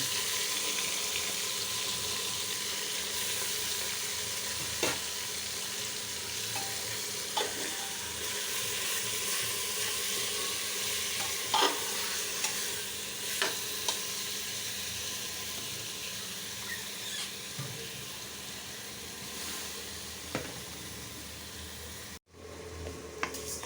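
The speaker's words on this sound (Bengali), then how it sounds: "মাংসটা কষায় নিলাম" Beef for bhuna khichuri being stir-braised in a pan gives a steady, even sizzle, with occasional light scrapes and taps of a spoon against the pan, close and with no talking.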